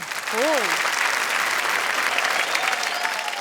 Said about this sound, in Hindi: ये ताली बजाने वाली बात है।